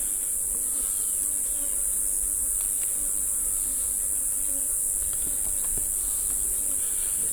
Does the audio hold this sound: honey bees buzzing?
yes